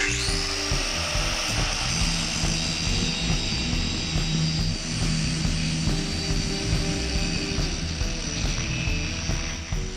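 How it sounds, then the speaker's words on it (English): An angle grinder cuts through a tiled shower wall panel during a bathroom renovation, a loud, continuous high whine with a gritty rumble underneath that holds steady for the full ten seconds, no voices. "So I found it obviously much easier to use the angle grinder to get the bulk of the material out of the way."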